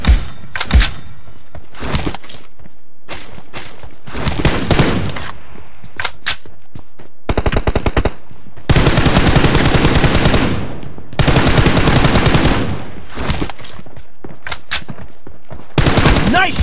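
Bursts of M416 rifle fire in a BGMI team deathmatch, loud and close, rattling in rapid automatic strings of varying length separated by short pauses, with single shots and thuds scattered between.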